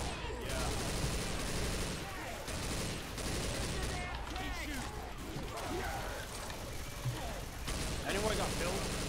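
Dense, sustained gunfire from a Left 4 Dead 2 versus match, overlapping shots and bursts rattling continuously at moderate level throughout.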